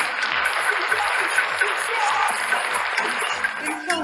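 Steady applause from a live-stream audience, a continuous patter of many claps running the whole time at an even, moderate level.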